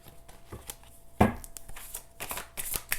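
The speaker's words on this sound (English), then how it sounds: "This deck is so huge that it's hard to shuffle." A huge deck of tarot cards is shuffled up close, with stiff riffling flutters and soft slaps coming in uneven bursts, with no talking.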